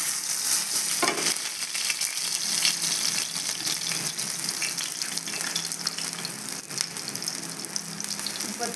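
Lentil fritters (dal bora) fry in oil on a flat tawa, a loud, close, steady sizzle that hisses on without pause.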